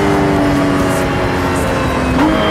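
A Lotus Cup R sports car drives hard with a loud, raw engine note that climbs and holds steady, close up. There is a short rising pitch near the end and no talking.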